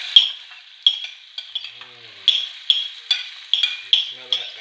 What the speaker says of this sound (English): we're going to just saute this down for about 1 or 2 minutes